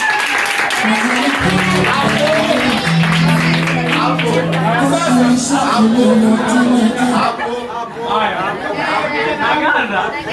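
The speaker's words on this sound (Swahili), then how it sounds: "Wapigie makofi" A group of children and adults claps and cheers for the winners of a children's drawing contest, lively applause mixed with overlapping chatter, laughter and a few whoops, close and loud indoors.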